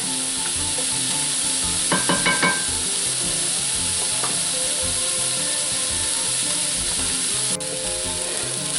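Chopped vegetables and onion sautéing in a cast iron pot give a steady, loud sizzle. A short burst of spatula scrapes and taps against the iron cuts in partway through, and the frying continues close and unbroken to the end.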